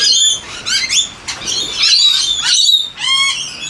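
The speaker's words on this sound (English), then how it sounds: "every time it rains we get all the parrots coming to shelter under our veranda" Parrots sheltering under a veranda in the rain give several bursts of flapping wings and harsh squawks and chirps, close and fairly loud, with brief pauses between the outbursts.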